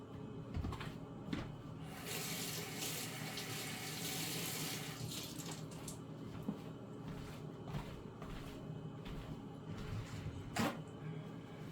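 Tap water runs over a tomato being rinsed at a kitchen sink, a steady broadband splash that swells in the middle and then thins, with a few faint knocks and clatters around it.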